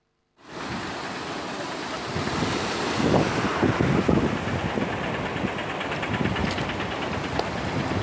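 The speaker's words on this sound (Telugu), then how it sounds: "సిరికొండలోని చికమాన్ వాగు ఉధృతంగా ప్రవహిస్తోంది" A flooded stream at Chikman Vagu in Sirikonda, Telangana, rushes fiercely after heavy rain, a dense continuous roar of churning water mixed with wind buffeting, loud and unbroken throughout.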